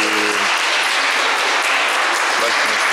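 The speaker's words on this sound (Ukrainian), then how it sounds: "Бачимо, суперниці аплодують Тетяні" Opposing women's team applauding their injured goalkeeper during a match, dense steady clapping close by, with voices briefly audible near the start and end.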